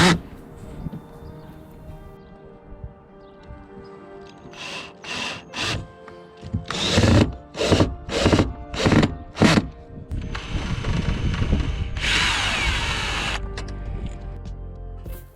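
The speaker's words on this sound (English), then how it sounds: "I am back up on top, putting the screws back through on the roof rack." A power drill drives screws into a motorhome roof rack, with several short bursts of whirring, a longer grinding run and a final sustained buzz, all close and loud.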